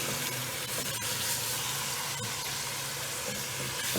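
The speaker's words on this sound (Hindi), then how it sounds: "पहले कीमे को अच्छा सा हम भून लेंगे।" Minced beef keema frying in a pan, a dense steady sizzle throughout with occasional stirring scrapes, close and loud.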